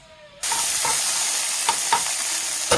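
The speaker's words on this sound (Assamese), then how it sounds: "আজি পথাৰত ফৰিং দুজনীমান পাইছিলোঁ সেয়াকে ভাজোঁ বুলি ভাবিছোঁ এতিয়া" Grasshoppers caught in a field frying in hot oil give a loud, steady sizzle that starts abruptly and carries on with a few brief crackling pops.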